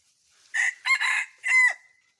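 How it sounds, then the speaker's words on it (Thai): A decoy rooster used to lure wild junglefowl crows nearby, loud and clear, one bright call with a rising and falling shape that ends in a short trailing note, against a quiet background. "ไก่ต่อครับ"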